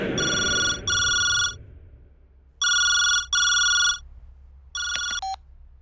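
A telephone rings in repeated electronic double trills with pauses between, loud and close, ending abruptly with a brief tone as it's picked up.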